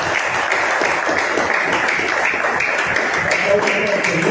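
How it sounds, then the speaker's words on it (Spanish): A church congregation applauds together in a dense, continuous wash of clapping that stays at an even level from start to finish, with some voices mixed in beneath it. "Démosle un aplauso al Señor"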